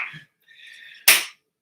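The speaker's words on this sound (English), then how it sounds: "apparently we need to clap our hands." A single sharp hand clap sounds, loud and close, just after a brief high whistle-like tone and a short voice sound.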